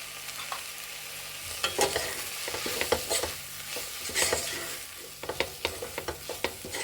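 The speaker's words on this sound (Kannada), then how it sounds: "ಎಲ್ಲ ಚೆನ್ನಾಗಿ ಫ್ರೈ ಮಾಡಿಕೊಂಡು ಸ್ವಲ್ಪ ಆರ್ಕೊಂಡ್ಮೇಲೆ ರುಬ್ಕೋಬೇಕು" Chili powder and sambar powder fry in a pan with a low sizzle under repeated close scraping and tapping strokes of a spoon as the mixture is stirred.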